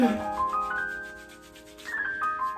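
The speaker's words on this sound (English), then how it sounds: "So we'll get this cube rubbed into the beard." A shaving soap cube is rubbed into a beard, with soft close scratchy rubbing strokes at the start and again near the end over a faint steady tonal background.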